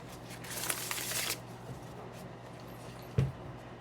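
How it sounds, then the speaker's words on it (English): Tarot cards are shuffled by hand in a quick riffling burst of papery flutter lasting about a second, followed by quieter handling and a soft thump as the deck is tapped, close up with no talk. "I did kind of start a pre-shuffle a little bit, but I will continue shuffling"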